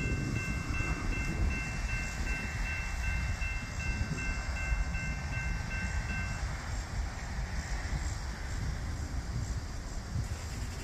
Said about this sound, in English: I just know this train is struggling. They throwing sand out and everything.